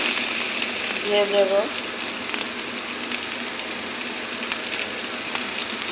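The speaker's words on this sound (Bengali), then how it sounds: "পেঁয়াজটা একটু ভাজা করে নিই" Chopped onion fries in a little fish oil in a hot wok, making a steady, close, crackling sizzle that holds evenly throughout. A voice speaks briefly over it.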